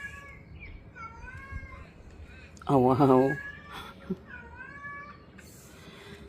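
A pet cat gives one loud, clear meow with a rising and falling pitch, close by. Quieter chirping sounds play in the background, and someone speaks briefly around it.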